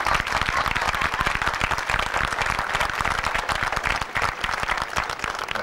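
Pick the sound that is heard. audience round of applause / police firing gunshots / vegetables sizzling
audience round of applause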